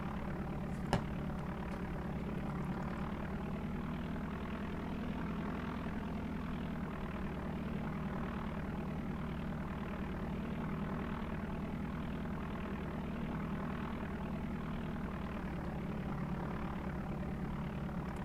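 A propeller airplane engine in the video game Flight Simulator 4 taxis to parking with a steady, droning hum that continues without a break, loud and constant with no voices.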